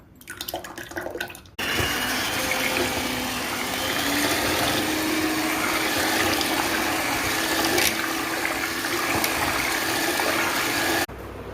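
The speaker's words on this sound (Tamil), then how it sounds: "இதில் வந்து தயிர் ஊற்றிக்கலாங்க" About a packet of curd is poured into a pot of milk, giving a steady, close, rushing liquid pour that lasts around ten seconds and stops abruptly, with no one talking.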